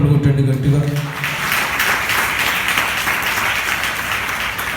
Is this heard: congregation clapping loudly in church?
yes